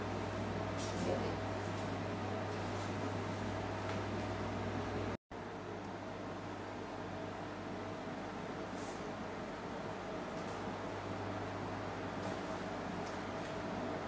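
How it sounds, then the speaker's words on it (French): An Action-brand electric fan runs steadily with a constant hum and broadband airflow noise, oscillating through about 60 degrees, with a brief dropout partway through and no talking. "vous avez aussi un mode où le ventilateur tourne à 60 degrés"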